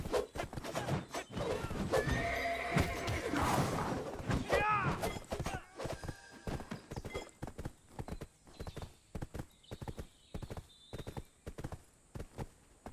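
Horse hooves clip-clop at a steady rhythm in Black Desert Online, with a brief whinny and other game sounds early on, moderately close and fairly quiet.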